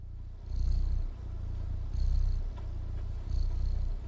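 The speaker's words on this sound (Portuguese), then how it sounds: "Ele ronrona enquanto dorme." A cat purrs softly while sleeping in the video game Stray, a low rumbling purr rising and falling in three slow breathing cycles, steady and close.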